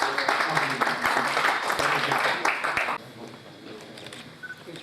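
An audience claps at the inauguration ceremony for an Urdu real estate book, a lively burst of applause for about three seconds that cuts off abruptly into quieter room sound with faint taps.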